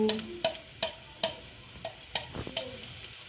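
Onion frying in a pan, with a steady soft sizzle and a regular series of sharp spatula taps and scrapes, about one every half second, close by and without talk.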